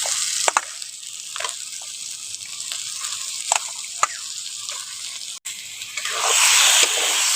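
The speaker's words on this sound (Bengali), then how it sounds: "মশলা থেকে তেলটা ছেড়ে গেছে, এবার চিকেনটা দিয়ে দেবো। চিকেনটা দিয়ে দিচ্ছি।" Chicken pieces go into a pan of spiced oil that has been cooked down, giving a close, steady sizzle with occasional stirring taps. Near the end the hiss swells, louder and brighter as the meat hits the hot oil.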